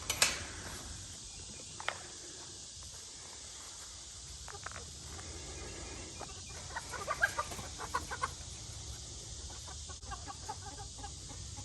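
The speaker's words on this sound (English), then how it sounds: "now he's not the only rooster in there" Roosters and hens cluck and call in a backyard coop, with scattered short calls and one sharper crow-like burst near the start over steady low background noise.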